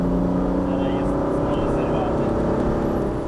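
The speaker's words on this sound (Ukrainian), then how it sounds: "Це вона зараз підбуксовувала прям Толік, так?" Mercedes-Benz C124 driving in fourth gear with a slipping clutch, a steady loud engine drone and road roar heard from inside the cabin throughout, with faint voices underneath.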